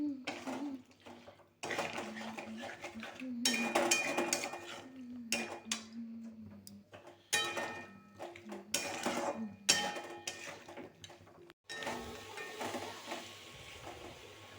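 Duck meat is stir-fried with a ground paste of ginger, garlic, onion, chilli and cumin plus meat masala, with repeated spoon scrapes and clinks against the pan in bursts, interrupted by short pauses and a low hum.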